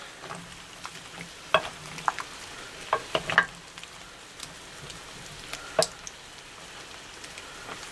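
Cream being poured over cucumbers in a hot pan on a just-turned-off burner, with a soft steady sizzle and scattered clinks and scrapes of a utensil stirring.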